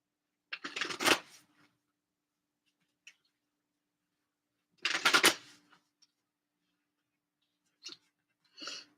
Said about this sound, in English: Let me get some cards from the Moonology deck.